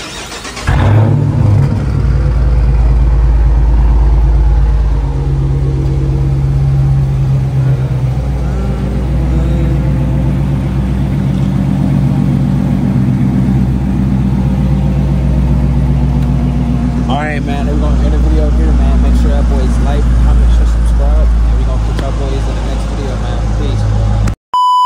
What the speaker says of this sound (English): I'm going to warm start it real quick, let y'all hear what she's sounding like.